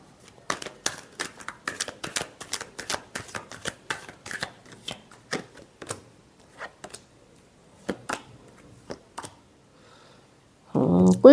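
Tarot cards being shuffled by hand: quick, dry riffles and slaps come in clustered bursts that thin out and space apart over time, then a short louder rustle at the end.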